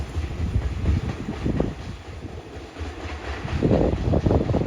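Rail cars rumble and clatter past at a Thai railway station where an express diesel train waits on track two while rapid train 172 goes through, a steady loud rolling with wind buffeting the microphone.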